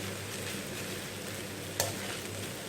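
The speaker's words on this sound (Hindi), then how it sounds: "अब फ्लेम हाई करके आपने ये सारे राइस अच्छी तरीके से इस मसाले में मिक्स कर देंगे।" Rice being tossed into masala on a high flame for egg fried rice makes a dense, even sizzle throughout, with one sharp scrape of the spoon partway; no voices.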